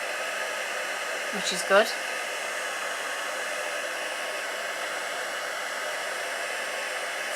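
A craft heat tool blows hot air over paper flowers on a Valentine's keepsake box, a steady loud roaring hiss throughout, with a brief spoken remark near the start.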